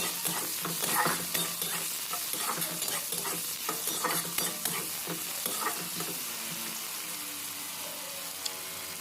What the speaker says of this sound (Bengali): পেঁয়াজটা নাড়াচাড়া করে হালকা ভেজে নিতে হবে